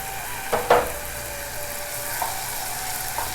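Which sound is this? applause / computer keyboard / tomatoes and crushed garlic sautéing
tomatoes and crushed garlic sautéing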